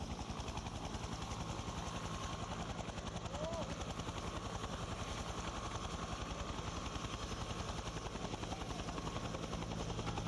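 Helicopter rotor thumping steadily and loudly throughout, the rapid chop constant with no pauses, from an aerial camera helicopter above a road cycling race stage at the 2017 Tour of Turkey.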